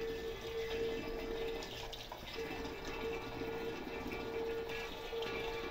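Water pouring into an electric water heater tank through the element opening: steady, continuous rushing and trickling under a constant hum, with no talking.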